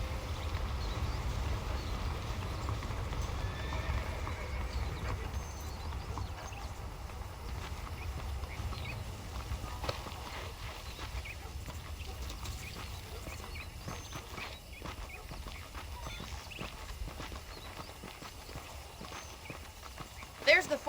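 Horse hooves clip-clop steadily while riding in Red Dead Redemption, a quiet, even rhythm running throughout with talk over it.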